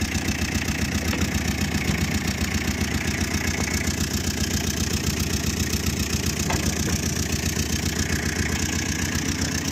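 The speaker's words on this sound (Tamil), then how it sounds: "ஓட்டன்னு ஒரு தட்டில் வண்டி ஸ்டார்ட் ஆகும்." A 2008 Tata Ace's engine idles close by, a steady even chug holding at one level for about ten seconds with no voices.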